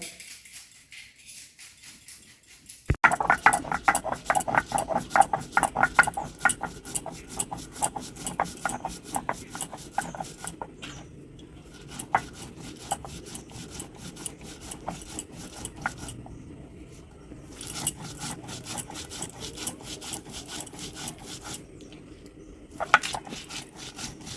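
Small hilsa fish being cut at home, a run of repeated scraping and chopping strokes on a board, fairly close and quiet, broken by short pauses, with no talking.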